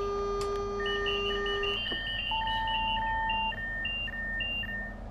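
Train Sim World 3 video game: the cab of a Class 395 train runs its AWS self-test, a cluster of electronic alarms with steady tones and rapid repeating beeps sounding together, loud and close, with no talking.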